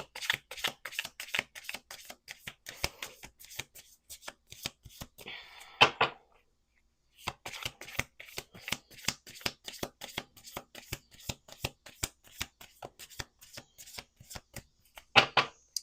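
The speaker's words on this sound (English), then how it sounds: "Let's do 2 more shuffles here." A deck of cards is shuffled repeatedly, with rapid rhythmic flicks and snaps, a brief pause midway, then more riffling up close.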